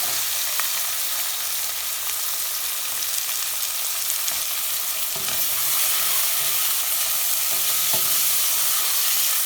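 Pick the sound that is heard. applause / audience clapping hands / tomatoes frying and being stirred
tomatoes frying and being stirred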